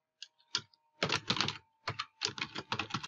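Fingers typing on a computer keyboard to fill in a form: close, crisp clusters of key clicks in irregular bursts, with short pauses between runs and no talk over them.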